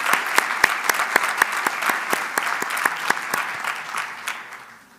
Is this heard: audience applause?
yes